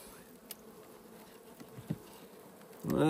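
Honeybees buzz around an opened hive in early spring, with soft scattered buzzing close by and a sharper, louder buzz swelling near the end as bees fly up.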